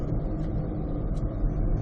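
A Cadillac Escalade V idles with ambient road noise around it, a steady low engine hum that stays even and moderately quiet throughout, with no talk.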